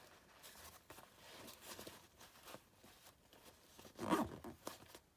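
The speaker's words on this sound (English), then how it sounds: "Zip that up." The battery pocket zipper on a VOLT HEAT heated work glove is pulled shut in one short, faint rasp after soft rustling of fabric, all very quiet and close.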